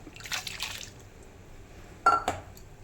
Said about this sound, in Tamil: இதில் பாத்திரத்தில் கொஞ்சம் தண்ணி ஊற்றி அதையும் கழக்கி எதையுமே வேஸ்ட் பண்ணக்கூடாதுங்க